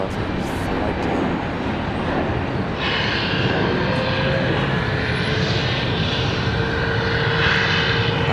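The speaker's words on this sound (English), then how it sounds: "JetBlue 2485 coming in from JFK. That's going to be an A320" A JetBlue Airbus A320 arriving at Raleigh-Durham after a flight from JFK, its engines a loud, steady roar that holds the whole time, with a rising whine layered in partway through.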